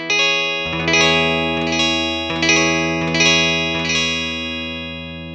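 An electric guitar chord picked right near the bridge through effects with distortion, struck about six times in a loose rhythm, each bright, twangy strum ringing on into the next at a steady, close level.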